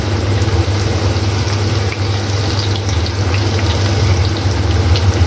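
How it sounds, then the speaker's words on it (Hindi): Potato tikkis sizzling in hot oil in a large wok, a steady, dense frying hiss with a low continuous rumble, close and loud throughout with no talking. "अब जो हमारे टिक्के हैं ना वो डालेंगे कढ़ाई के अंदर हम"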